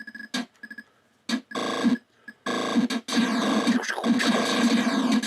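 Electronic arcade game tones from Tempest in bursts: buzzy bleeps and zaps with short silent gaps, then a longer stretch of continuous synthetic noise and sweeps.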